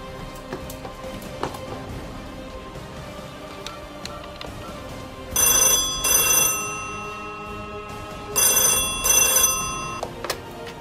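An old-style telephone bell rings in two loud bursts, each a pair of trills, during an emergency call to 119 at a dementia care centre in Pyeongchang, over a quiet room with faint clicks.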